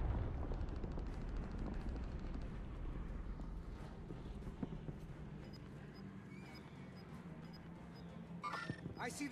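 Airstrike explosions in the video game Call of Duty Warzone, low rumbling blasts rolling under game noise with voices talking over them, fairly faint throughout.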